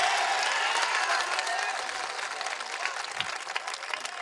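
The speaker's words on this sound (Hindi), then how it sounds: "आपने हिंदू परिवार के मुखिया के जवाब पर तालियां तो बजाई।" Audience applause fills a poetry mushaira hall in Parbhani, a dense, steady wash of many hands clapping that stays loud throughout and thins only slightly toward the end, with no voice over it.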